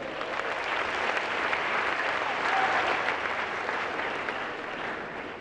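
Steady audience applause at a peace-promotion gathering with regional chiefs present, a dense continuous patter of many hands that swells slightly mid-way, then eases a little toward the end.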